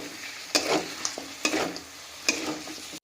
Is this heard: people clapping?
no